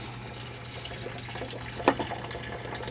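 Water pours and trickles steadily into a pot nearby, with a brief splash partway through, over a faint low hum.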